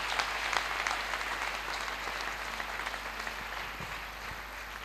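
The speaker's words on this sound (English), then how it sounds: "Clap for our Lord Jesus Christ." A church congregation applauds in a steady, dense wave of clapping that fills the room and fades slightly toward the end.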